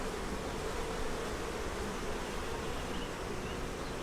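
Honey bees buzzing around an open hive that is making honey, a loud, unbroken close-up drone that fills the whole stretch.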